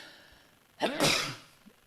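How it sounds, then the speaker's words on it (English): A single sharp human sneeze with a quick intake of breath before it, close and clear against a quiet room, followed by a faint small sound. "I think that's the first time I've like sneezed on air"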